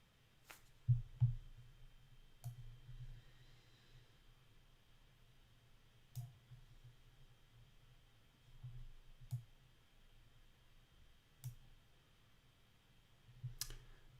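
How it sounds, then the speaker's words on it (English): Someone types on a computer keyboard during a developer session: sparse, faint clicks and taps spaced irregularly over a quiet background, with no voices. "So Mehrab is typing."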